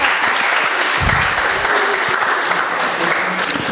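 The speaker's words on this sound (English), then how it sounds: "Let's give it up for her. Clap for her again" An audience claps loudly and continuously for a speaker at a live broadcast event, a thick, even wash of applause with a few lower thumps early on.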